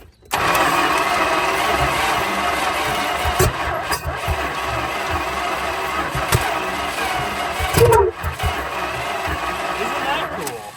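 A 1974 Dodge Monaco engine cranks and catches, then runs roughly with uneven, odd noises close by; voices come in briefly.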